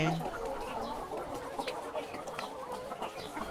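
Laying hens cluck softly and repeatedly amid a busy flock feeding in a poultry farm, overlapping short calls against a low background murmur.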